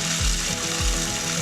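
Food processor grinding toasted hazelnuts into meal, a loud continuous whirring motor with a rhythmic rattling pulse from the nuts hitting the blade, close and steady, no talk.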